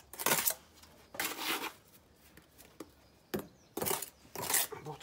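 A trowel buttering a brick with mortar while bricking round a flue: a series of scraping, slapping strokes in short bursts with pauses between, close and crisp, with no talking over them.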